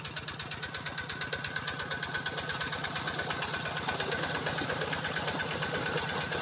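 An engine-driven water pump pumps water outdoors, making a steady, rapid mechanical chugging that runs continuously at a moderate distance with no pauses.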